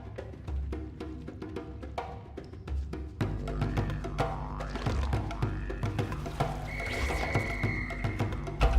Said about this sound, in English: I'm not really sure what the deal is with the whistle.